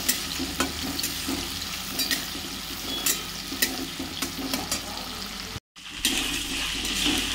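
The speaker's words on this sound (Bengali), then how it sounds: "ওই তেলেই এবারে কুচনো পেঁয়াজ দিয়ে দিচ্ছি" Chopped onions sizzle steadily in hot oil in a home kitchen pan while preparing a spicy Bengali fish curry, with scattered stirring scrapes and a brief cut near the end.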